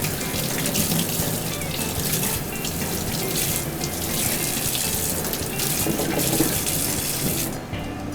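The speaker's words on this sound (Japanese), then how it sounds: "万願寺唐辛子はヘタを落として縦半分に切って一度種を洗い流します" Halved manganji peppers are rinsed of their seeds under a running kitchen tap, a steady close gush of water splashing into the sink without a break, easing off just at the end.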